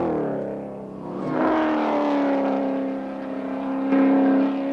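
A touring car engine revs and climbs in pitch up a mountain circuit, holding a strained whine as it accelerates, fairly close and loud.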